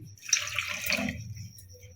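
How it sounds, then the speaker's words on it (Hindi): About a cup of water is poured into a pot holding roughly half a kilo of jaggery in a home kitchen, a short soft splash and trickle heard close up without talk. "और इसके अंदर शामिल करनी है 1 प्याली पानी की।"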